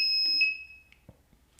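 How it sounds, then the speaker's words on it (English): A steady high electronic beep from the buzzer on an electronics kit board sounds once for about half a second, then cuts off, leaving only faint clicks and quiet room noise. "I got it before it even had a second beep."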